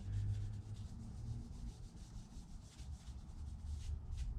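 Cloth wiping a first coat of wood finish onto red oak, a steady soft rubbing and scuffing that carries on throughout, close and fairly quiet, with no voices.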